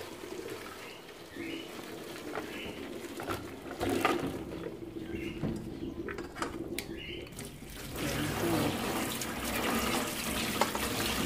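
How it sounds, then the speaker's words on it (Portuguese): Cold water splashes steadily over cooked rustic-style potatoes in a kitchen sink or pan, a continuous pouring and tap-like rush that swells near the end, with faint clinks and bird chirps in the background. "Vou jogar água fria,"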